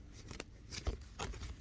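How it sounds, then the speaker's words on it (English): Oracle cards are shuffled by hand in a few quick, close riffling bursts separated by brief pauses, with no talk. "I want you to see that I'm shuffling the cards"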